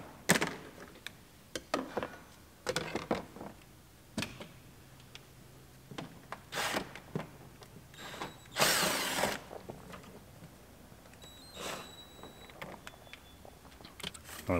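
A ratchet loosens bolts behind the speaker grilles on the dashboard of a 2015 Toyota RAV4, giving bursts of quick clicking spread across the clip with short pauses between them, close up and with no talk.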